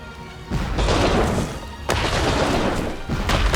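Cannons firing in the video game Warcraft: Chronicles of the Second War, three heavy booming blasts in quick succession, each with a rumbling, crashing tail, loud and close.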